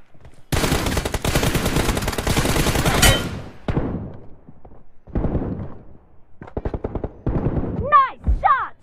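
Rapid automatic gunfire rattles loudly in a shooter video game 1v1 team deathmatch, one long sustained burst followed by several shorter bursts and a few warbling sound effects near the end.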